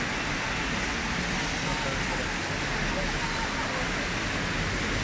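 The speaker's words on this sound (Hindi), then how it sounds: "बहुत तेज बारिश हो रहा है।" Heavy downpour in Makkah, a loud, unbroken broadband roar of rain and rushing floodwater filling the whole stretch.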